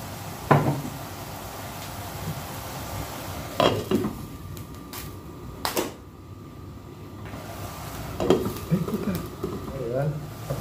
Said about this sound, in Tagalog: lagyan ng tokwa. Halu-haluin yung konti.